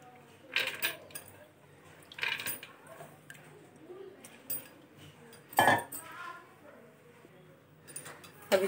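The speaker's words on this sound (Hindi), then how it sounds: "इसको छान के कुकर में इसको हम डाल देंगे" Metal utensils clink and clatter in a few short bursts as strained chana dal is poured into a pressure cooker, with soft kitchen background noise between.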